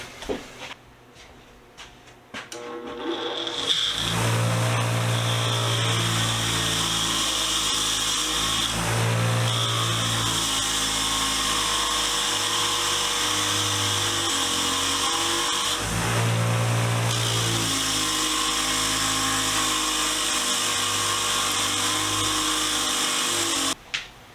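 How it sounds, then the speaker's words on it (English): A bench wire wheel spins steadily on a rusty Domino wrench for over twenty seconds, a loud motor whine with recurring grinding surges as the metal is pressed against the brushes, no voices. "Alright, let's take it to the wire wheel."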